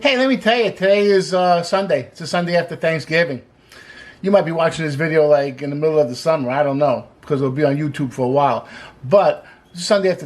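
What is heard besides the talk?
No everyday noise stands out behind the speech.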